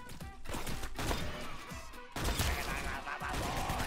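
Rapid, rough blasts of shotgun fire in the Roblox game Arsenal, a quick burst of repeated shots with crashing impacts at moderate level.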